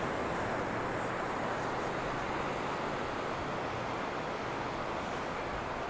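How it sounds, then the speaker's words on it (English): Ocean surf at Takapuna Beach in Auckland, a steady, dense wash of breaking waves mixed with wind, loud and continuous without talk. "Don't you love the sound of the ocean?"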